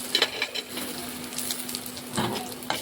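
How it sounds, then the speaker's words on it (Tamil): Small pieces of chopped coconut fry in a little oil in a kadai, giving a steady close sizzle with a few scraping stirs and light clinks, and no one speaks. "அதே கடாயில் கொஞ்சம் எண்ணெய் விட்டு கொஞ்சம் தேங்காய் குட்டியாக வெட்டி வச்சுருக்கேன், அதை ஃப்ரை பண்ணிடலாம்."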